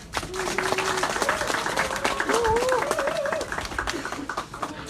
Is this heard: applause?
yes